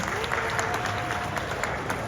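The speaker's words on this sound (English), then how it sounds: "a round of applause for our volunteers." A crowd at Dubai Safari Park claps in a steady burst of applause for volunteers at a show, with a voice faintly audible underneath.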